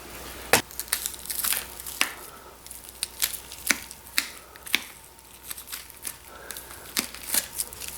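A knife peels a deer backstrap away from the ribs while butchering. Irregular close, crisp crackling and tearing snaps come one after another, with no talking.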